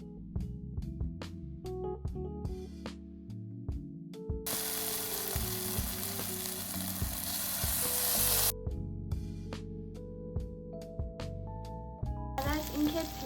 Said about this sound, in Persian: بعد از اینکه پیاز و رب گوجه و سیر رو تفت دادیم